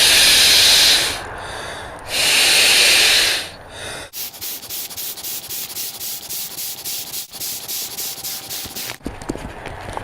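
Someone blows long breaths into a Neo Air air mattress to inflate it: two loud, breathy hisses close by, then a steady, softer rubbing hiss of air through the valve that continues to the end.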